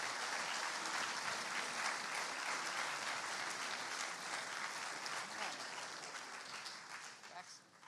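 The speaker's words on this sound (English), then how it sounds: "Let's give all of them a round of applause." A large audience applauds students named to the all-A and A-B honor roll at a high school awards ceremony, with steady, dense clapping filling the room for several seconds before tapering off at the end.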